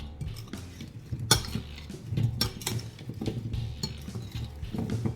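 Potatoes are tossed with coriander and rosemary, with a utensil clinking and scraping against a bowl in irregular, close knocks and soft stirring.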